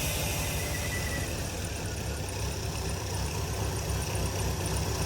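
A Ford Fairmont engine fitted with a 1-barrel Holley Sniper fuel injection idles steadily nearby, a loud, even low rumble with constant throbbing and no talk.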